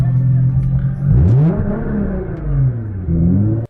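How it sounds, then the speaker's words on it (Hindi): Car engine revving as it accelerates in first gear, a loud, close drone that rises and falls in pitch through several gear-like sweeps, with no clear talk. "कार को एक्सेलरेट करने पर इंजन आवाज़ करना शुरू करेगा"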